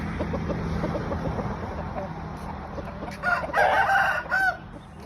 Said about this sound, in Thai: พาทุกท่านนะครับชมไก่ชนนะครับ